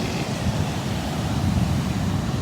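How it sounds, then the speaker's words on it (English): Ocean waves washing onto a beach, a broad, steady roar of surf mixed with wind buffeting the microphone, loud and continuous with no distinct breaks or voices. "Waves."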